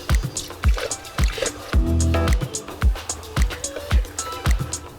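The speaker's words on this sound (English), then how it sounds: "we got some fluid coming up out of our hose, which is good" Coolant gurgling and bubbling up out of an open radiator hose as the cooling system fills with antifreeze, with wet sloshing bursts and a louder glugging surge near the middle, close and repeated throughout.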